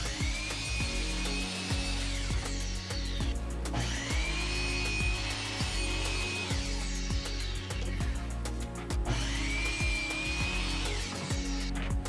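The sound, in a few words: miter saw cutting wood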